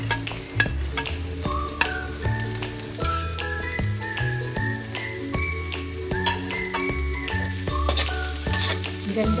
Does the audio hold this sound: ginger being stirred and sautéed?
yes